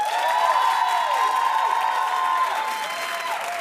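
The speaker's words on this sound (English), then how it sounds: "clap if you love it" A studio audience on a daytime talk show claps steadily and loudly throughout, a dense sustained wash of applause with a bright tonal hum running underneath.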